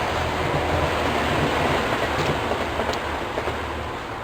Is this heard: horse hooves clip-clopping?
no